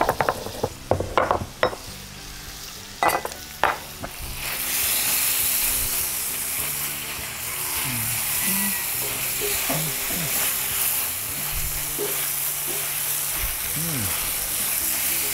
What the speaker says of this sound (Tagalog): Look at that searing